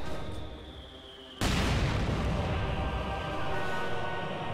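A mortar shell explodes in Company of Heroes, a sudden loud boom that cuts in after a quieter stretch of background noise, then trails into a dense, sustained rumble that holds for several seconds.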